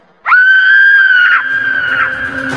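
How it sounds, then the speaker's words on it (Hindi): A painful, drawn-out scream bursts in for about a second as a loud sustained cry, then fades into a fainter held wail, a sound effect in an animated horror story about a witch in an old mansion. "एक बड़ी ही दर्दनाक चीख मेरे कानों पर आ पड़ी।"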